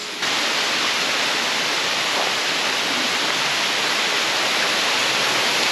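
A steady, loud rush of falling water from Anya Falls in Tanay, Rizal, roars without pause, dense and close, with no voices.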